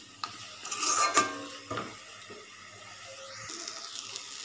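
Spice paste (masala) stirred and fried in a pan makes soft scraping and low sizzling, with a louder clatter of utensil on pan near the start, then a quieter simmer.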